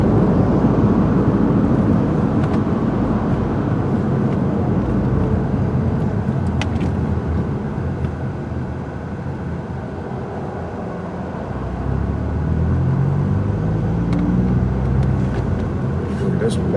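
Car driving in slow traffic on a commute, heard from inside as a steady low engine and road rumble that eases slightly mid-way then rises again, with someone talking intermittently over it.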